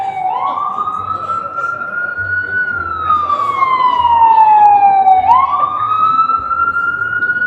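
An ambulance siren moves along a New York City street, loud and close, with slow rising and falling wails and a sharp upward sweep near the end over a constant hum of traffic.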